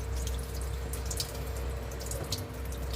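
Water drips from a bathroom sink's removed P-trap during a repair, making soft, faint, scattered drops over a low steady background hum.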